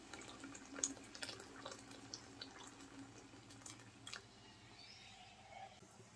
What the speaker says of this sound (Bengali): এখানে ফুটন্ত গরম পানি নিয়েছি,